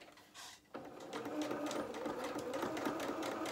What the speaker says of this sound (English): And we can go to our sewing machine